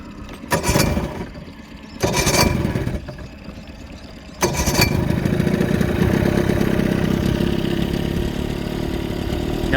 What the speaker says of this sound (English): We got the 15 Mercury 4-stroke EFI.